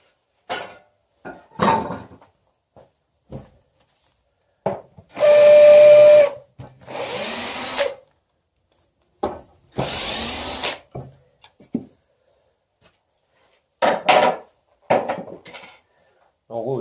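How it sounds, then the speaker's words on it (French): Screws driven with a power driver through leather for moulding, several short whirring bursts separated by pauses, close and loud, with intermittent handling knocks between runs. "quand on visse au travers pour faire notre moulage"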